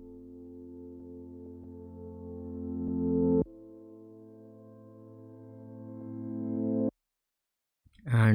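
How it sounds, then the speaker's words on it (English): A reversed piano in an FL Studio rave track forms two swelling, sustained tones, each rising in loudness and then cutting off abruptly, followed by silence and a brief start of a voice. "I've just used the reverse piano just to get some of the ambience"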